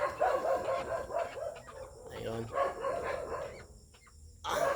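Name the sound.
dog barking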